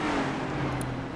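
Lapped race cars in a NASCAR video game drive past the pace car at Kansas Speedway, making a steady, close engine drone that holds for about a second with no voices.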